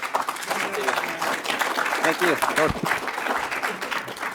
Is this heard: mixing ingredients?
no